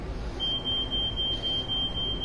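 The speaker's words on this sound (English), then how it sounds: "It sounds like dinner's nearly ready, or over ready, however you want to interpret the smoke alarm." A smoke alarm beeps steadily and faintly in the background as a continuous high tone over low room noise and the hum of a game, with no one speaking.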